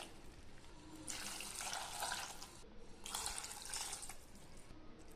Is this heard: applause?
no